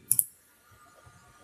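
Two quick, close mouse clicks in a row as options are confirmed in simulation software, followed by quiet room tone.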